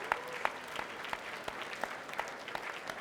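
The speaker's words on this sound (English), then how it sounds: "One more big round of applause for Operation AMP" Applause from the audience at the SURFER Poll 2011 awards show, steady and fairly distant, with a few louder claps standing out from the wash of hands and no voices over it.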